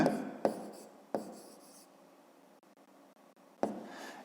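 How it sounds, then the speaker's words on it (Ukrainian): Pen writing out a 5th-grade geometry solution on paper, with three sharp taps marking strokes amid a soft continuous scratching, close and alone with no talk. "Пишемо тоді 2 і записуємо, що АЕ дорівнює МБ."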